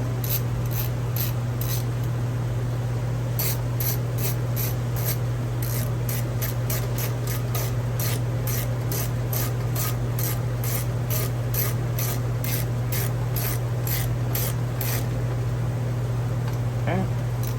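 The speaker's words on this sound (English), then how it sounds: "we've got the 8mm bolts in. So we're just going to tighten these up." A ratchet tightening 8mm carburetor bolts on a Troy-Bilt TB110 lawnmower, with rapid rhythmic clicking close to the microphone over a loud, constant engine-like hum.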